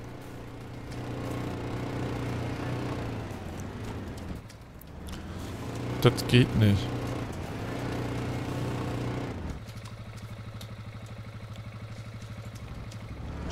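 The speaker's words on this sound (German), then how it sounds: "Ein Motorrad." A motorcycle engine in DayZ Epoch hums steadily with a moderate drone. It shifts pitch midway, with a few brief sharp knocks over it, and a short spoken remark occurs.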